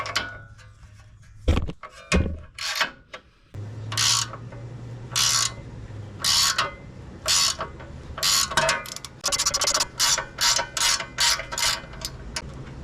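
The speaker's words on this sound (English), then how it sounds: "If your tie rod's spinning, 10mm wrench will hold the bottom." Ratchet or wrench working around a spinning tie rod on a Ram 1500 during a coilover install, a 10mm wrench holding the bottom; close, repeated short clicking bursts, quickening into a steady run near the end.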